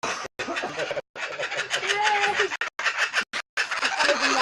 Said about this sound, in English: That's the African spotted owl there.